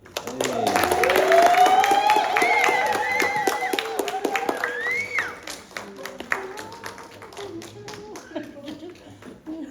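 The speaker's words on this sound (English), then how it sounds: "I just want y'all to make a big round of applause and welcome Arlene Viala." Audience at a San Jose poetry reading breaks into a round of clapping to welcome a poet, with whoops and cheering voices over the claps; it swells early, then thins to scattered claps and talk.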